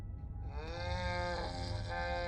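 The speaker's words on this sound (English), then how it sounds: "I think it's a cow." A cow lows in the horror game Scarlet Hollow, one long, drawn-out moo rising and holding at close range, heard alone over a low background hum.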